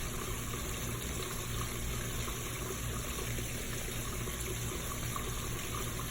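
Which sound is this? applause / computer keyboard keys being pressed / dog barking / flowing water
flowing water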